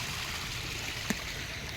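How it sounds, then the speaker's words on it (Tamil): Steady wash of flowing water, like a small stream running nearby, continuous and even with a brief tap partway through. "தண்ணி அப்படியே போயிட்டுருக்குது"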